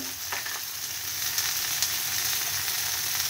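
Green chilies and nigella seeds fry in oil for a Bengali posto dish, giving a steady, bright sizzle with faint crackles and a few small pops, close and continuous with no talking.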